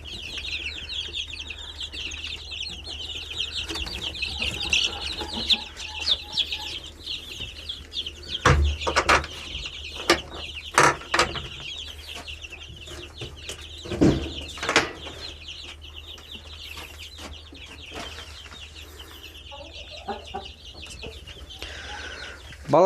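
Newly hatched chicks cheep continuously in a high, busy chorus while older chickens cluck nearby, with intermittent louder bumps and wing flaps from the birds close at hand.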